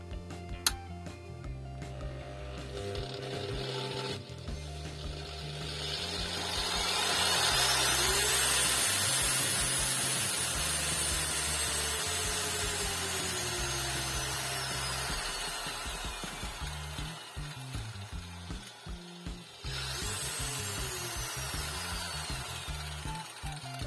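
An electric power tool with a brushed commutator motor, run through a dimmer, whirs close by, its pitch sweeping up and down as the speed changes, with clicks near the start and end.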